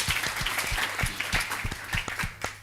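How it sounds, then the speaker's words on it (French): Congregation clapping together at a church service, a dense steady applause with sharp rhythmic claps running throughout, close and loud, with no talk over it. "Applaudissons pour le Seigneur."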